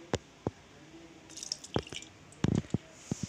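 Boiled sea moss and milk mixture strained in a kitchen, giving scattered drips and small liquid splashes with brief wet bursts, close and fairly quiet, no voices.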